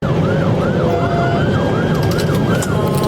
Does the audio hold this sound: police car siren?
yes